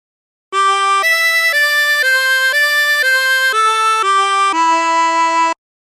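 Harmonica playing a phrase of My Bonnie Lies Over the Ocean: nine clean sustained notes in a slow, even melodic line, loud and close, ending on a longer held note, with no voices.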